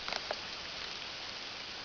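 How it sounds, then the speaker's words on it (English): Rain falling steadily on a cornfield, a soft continuous patter with a few faint ticks near the start, no talk. "I'm sitting in a cornfield watching it rain."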